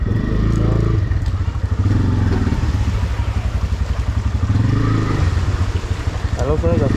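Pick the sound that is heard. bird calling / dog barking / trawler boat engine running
trawler boat engine running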